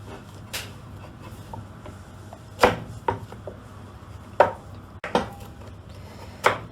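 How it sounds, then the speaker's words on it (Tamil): Raw banana being chopped into pieces with a knife on a board, a slow irregular series of crisp close knocks with quiet pauses between cuts. "இதை நம்ம இப்போ கட் பண்ண போகிறோம்"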